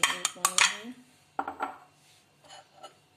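Boiled potatoes being added to chickpeas in a bowl, with a few close metallic clinks and scrapes of a spoon against the dish in short bursts separated by quiet pauses.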